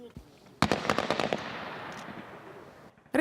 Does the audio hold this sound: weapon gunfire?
yes